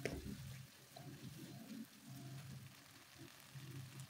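Spice paste for tekwan sautés in a pan with a faint, steady frying crackle, while a spoon stirs and scrapes in soft, uneven strokes throughout.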